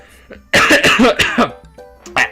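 A man clears his throat loudly several times in quick succession, a harsh cough-like rasp in close, alone, before launching into a mock announcer voice.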